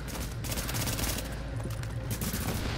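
Rapid automatic gunfire in The Division, dense bursts of shots crackling continuously and loudly throughout, with no talk.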